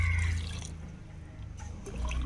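Water pours into a cooking pot holding potatoes with turmeric powder and salt for a fishermen's curry, a short close splashing and trickling stream that swells again at the end, with no talking.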